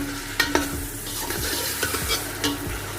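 Tomatoes, green chillies and garam masala are stirred in a hot pot for mutton pulao, with continuous frying sizzle broken by repeated scraping strokes and a couple of louder knocks.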